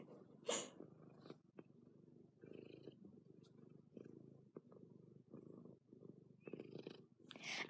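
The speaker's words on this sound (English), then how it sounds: "Cat ASMR." A cat purrs up close with a soft, continuous low rumble, broken by a few brief louder rustles and bumps in an otherwise quiet room.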